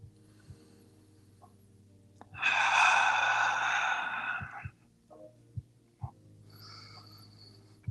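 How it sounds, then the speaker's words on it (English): Slow, elongated breathing during a yoga stress-relief practice: one long, clear exhale in the middle, then a few soft breath sounds and small clicks in a quiet room. "If you notice that your breath begins to shallow, experiment with elongating those breaths."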